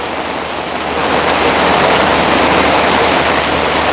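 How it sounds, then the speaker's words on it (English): Rain patters densely on top of an umbrella beside a pool in summer, a close, steady hiss of drops that swells slightly louder after the first second and holds, with no voices. "just to hear the rain on top of the umbrella"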